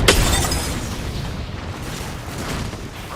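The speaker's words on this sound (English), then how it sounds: "Grenade, watch out. Frag grenade set." A frag grenade blows up in the shooter game Apex Legends, a loud, close boom with a sharp burst at the onset that then rolls off into a rumbling tail.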